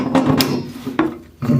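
Bicycle bottom bracket part being unscrewed with a tool, giving a few short scraping, ratcheting clicks in quick succession, close and fairly quiet.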